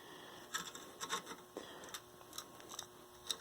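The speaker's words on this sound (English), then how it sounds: "A little scraper action." A scraper scrapes thick gunk off a 43-year-old Sears rototiller with a Briggs 5hp motor, a faint, close, uneven run of short rasping strokes and scratches.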